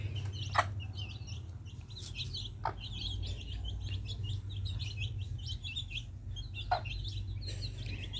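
Chicken chicks chirp in quick, high-pitched bursts over a low steady hum, with a few sharp clicks scattered through.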